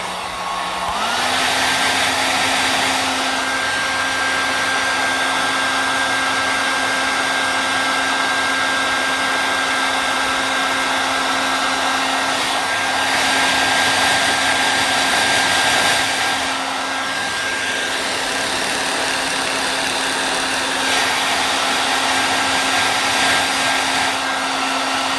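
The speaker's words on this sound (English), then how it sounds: "Now I'm going to come in with the hairdryer again to dry off that area." A hair dryer blowing on watercolor paper during a strawberry painting, a loud continuous whirring hum with a steady tone, running alone for the whole stretch with slight swells in airflow.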